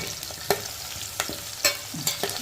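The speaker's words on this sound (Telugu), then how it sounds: "ఇందులో ఇవాళ బొబ్బాస్ ముక్కలు కూడా వేగింది కొంచెం" Raw papaya pieces fry in a pan with a soft continuous sizzle, broken by sharp clacks and scrapes of stirring at irregular intervals, close up and without talk.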